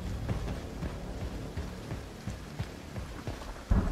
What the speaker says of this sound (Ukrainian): я в печері, там йде дощ, сюди він не потрапляє